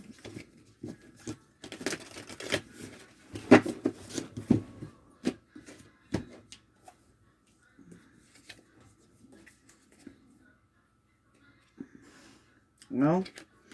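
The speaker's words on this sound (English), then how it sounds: "Give me a couple more shuffles, please." A deck of cards is shuffled by hand in a series of quick riffling bursts and taps, followed by quieter handling, with a voice talking over parts of it.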